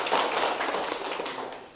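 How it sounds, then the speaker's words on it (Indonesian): A classroom of students claps to praise a classmate's answer, a brief burst of scattered, fairly close hand claps with no talking. "Tepuk tangan untuk Resti."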